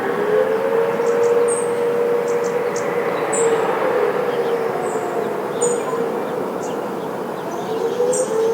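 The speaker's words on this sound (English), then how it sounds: "every now and again I've been hearing this weird air raid type siren" A steady, wailing air raid siren drones continuously at moderate distance in Surrey, its pitch gently rising and falling, with faint bird chirps above it.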